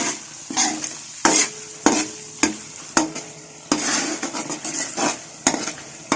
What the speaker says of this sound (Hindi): जब तक टमाटर नरम नहीं हो जाते मसाला भून लेंगे अच्छी तरह से